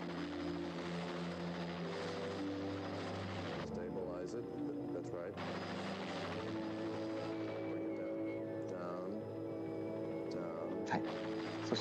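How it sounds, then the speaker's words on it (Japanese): A helicopter's steady rotor drone runs throughout, with music and voices layered over it. "このヘリコプターのフランのヘリコプター訓練シーンで合流します"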